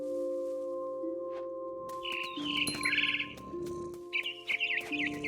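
A mama bird chirps in What Remains of Edith Finch, with bright bursts of chirping and tweets over a sustained tonal game background, growing busier toward the end, with no talk.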